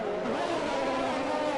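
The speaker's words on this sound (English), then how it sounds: "We've got a weird sounding car driving past us. Sounds like it's misfiring like mad." A misfiring car passes close by in a racing setting at Monaco, its engine giving a loud, rough, sustained roar without pause.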